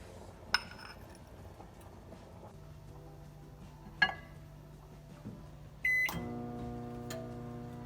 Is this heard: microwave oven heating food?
yes